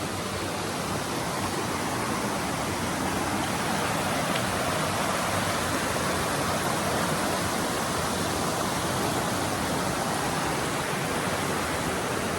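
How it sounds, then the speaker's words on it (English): Continuous rushing water from a creek near Abrams Falls in Cades Cove, a steady broadband wash that stays even and close throughout, with no voices. "So as you can see behind me is the creek"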